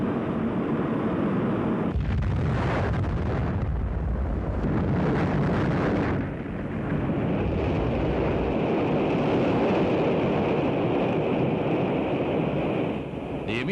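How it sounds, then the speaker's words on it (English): An Atlas-Centaur rocket exploding shortly after launch, climbing to about 30,000 feet before malfunctioning, comes across as a sustained, loud, rumbling roar, with a low-heavy burst around two seconds in and continuous broadband noise with no talking. "The immediate cause of the explosion is not known."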